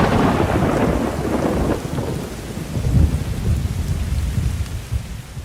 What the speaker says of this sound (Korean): 여러분 혹시 천둥 소리를 들어본 적이 있나요?